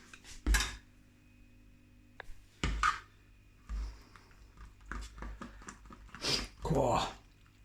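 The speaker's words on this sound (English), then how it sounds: "I'm going to stir that up now and mix it all up" A Pot Noodle piri-piri chicken with sauce is stirred in its pot, giving several scattered scrapes and clinks of a utensil against the container, close and fairly quiet, with silent gaps between.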